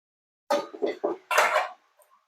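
A utensil stirring pumpkin and potatoes in a pan of lota fish curry, a few short scraping and clattering strokes in a quick burst, close and moderately loud, then quiet.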